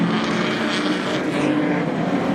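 Street stock race cars at Gympie Speedway during a Queensland title final roar continuously, a loud, dense engine howl that stays steady throughout, with no talk over it.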